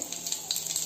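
Two dried red chillies and cumin seeds hit hot oil in a pan for masoor dal, giving a brief, steady, crackling sizzle close by.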